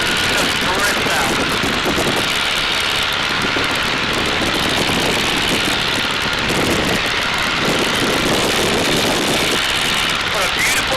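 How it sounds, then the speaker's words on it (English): A de Havilland Tiger Moth biplane, a more powerful variant than standard, drones steadily in flight with a constant loud propeller and engine roar from inside the open cockpit, with people talking over it. "This is a little bit more powerful TigerMoth than the standard one."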